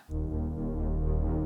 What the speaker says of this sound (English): I added a second Dave Smith Tetra with the same sound, same pad sound, but it plays lower